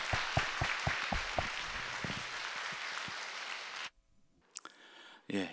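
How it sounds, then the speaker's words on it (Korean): A church congregation at a Sunday all-generations service applauds its youth with sustained clapping for almost four seconds before it stops abruptly, followed by a few scattered sounds. "우리 청년 청소년들을 위해서 박수하고 격려하겠습니다."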